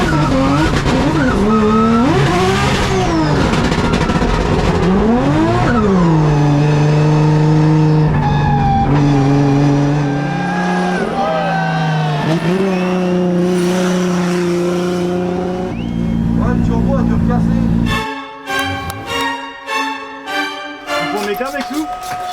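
A drift car drives at the French Drift Championship on a mountain round, its engine revving and wailing through rising and falling gear changes with screeching tire squeal, loud and close, ending in choppy, sputtering bursts.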